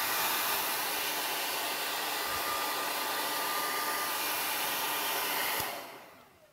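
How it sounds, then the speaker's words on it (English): A hairdryer on its warm setting, used to melt wax into a leather bag, runs with a steady, even whir and airy rush, then winds down and fades out at the end. "take a hairdryer and just put it on the hot,"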